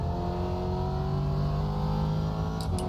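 A red Ferrari in a racing video game, its engine a steady droning hum with sustained tones, holding at a constant loudness throughout, with no talking.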